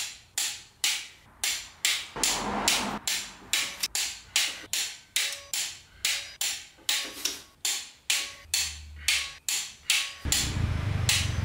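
A torque wrench tightening cylinder head bolts on a Ford Barra engine gives a long series of sharp, evenly spaced ratchet clicks, close and loud, with a brief pause midway and no talking.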